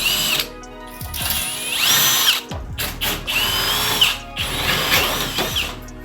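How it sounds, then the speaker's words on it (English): A power drill bores out holes in the body panel of a BMW E46 project car for rivnut installation. It whines loudly and close in three separate bursts with short pauses between them, and the pitch rises and falls as the bit cuts. "I just gotta bore them out a little bit."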